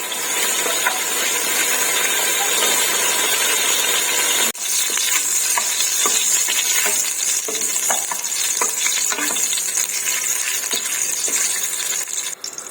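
Whole black cardamom and cloves roast in a pan with a loud, continuous sizzle and frequent stirring scrapes and taps, all close.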